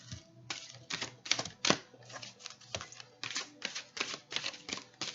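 Tarot cards shuffled by hand in a quiet room, a quick run of crisp riffling bursts and taps in irregular rhythm, close and fairly loud, with no talking.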